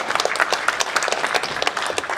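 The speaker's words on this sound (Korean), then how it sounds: "인사해 주실 때 큰 박수 항상 보내주세요" Applause from a seated audience at a political policy event, a brief, close burst of many hands clapping at an even, lively density.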